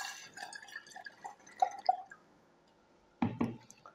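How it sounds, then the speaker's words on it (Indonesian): Water is poured into a fertilizer mixture made with moringa flour, giving a few faint drips and small wet squishes. A sharper pair of splashy gurgles follows near the end, all quiet and close. "kita sambil masukkan airnya supaya tidak tersumbat"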